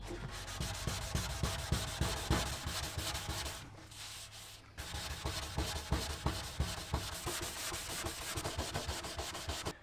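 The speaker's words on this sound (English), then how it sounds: "So then I'm gonna go ahead and just scuff the fender the rest of the way." Steady abrasive rubbing as the painted fender of an R32 GTR is sanded down, a continuous scratchy rasp with rhythmic strokes, close and loud, briefly easing off in the middle before resuming.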